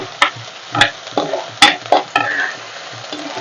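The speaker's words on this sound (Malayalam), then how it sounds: "ഈ വെളുത്തുള്ളി ഉള്ളിയൊക്കെ ഒന്ന് മൂത്ത് വന്നോട്ടെ" Garlic and onions fry in a pan for a fish curry, a steady sizzle broken by several sharp scraping stirs in an uneven rhythm, close and fairly loud, with no voices.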